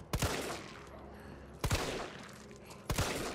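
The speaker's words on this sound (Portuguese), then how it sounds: "Todo tiro parece tiro crítico com essa arma." Three sharp pistol shots from the Resident Evil 3 demo video game, spaced roughly evenly apart, each with a short reverberant tail, loud and close.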